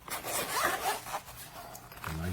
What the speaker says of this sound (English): A nice zipper.